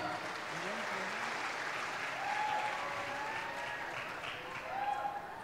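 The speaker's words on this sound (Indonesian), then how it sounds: "boleh berikan aplaus yang meriah?" Audience at a university opening ceremony applauds steadily, a dense and even clatter of many hands in a hall, lasting the whole stretch with a few faint voices in the background.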